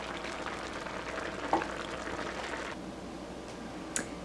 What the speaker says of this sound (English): I'm gonna cook for another 10 minutes until both the pumpkin and the lentils are tender.